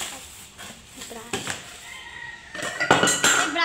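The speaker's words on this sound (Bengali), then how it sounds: "মুরগি ডাকছে" A rooster crows in a village in the early morning. The call is moderately loud and rises over nearby clinking of dishes and utensils, with faint voices in the background.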